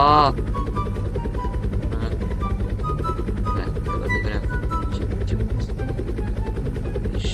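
A helicopter in the Roblox game Dusty Trip drones with a steady, pulsing rotor chop throughout, while a voice talks excitedly over it.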